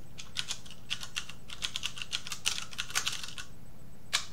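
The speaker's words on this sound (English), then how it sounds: "Really bad typing like this." Quick, uneven bursts of typing on a computer keyboard, close and fairly quiet, with clusters of key clicks separated by short pauses and a final isolated tap, no voices.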